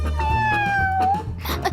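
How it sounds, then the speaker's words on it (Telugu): A cat gives one drawn-out, falling meow up close, with a low background hum and a brief burst of voices at the end, in a comedy film scene. "తాగు పిల్లి, తాగు."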